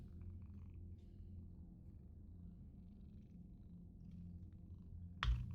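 A cat purrs steadily and softly close by, a continuous low rumble running throughout and ending with a brief thump.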